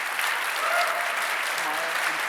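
A crowd claps in dense, steady applause after a memorial lecture at an audio engineering convention, with faint voices under it.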